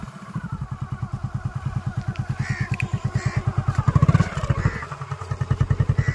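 A motorcycle engine chugging in a steady pulsing idle as a boy learns to work the clutch, rising briefly in a low rev before settling back, close and loud.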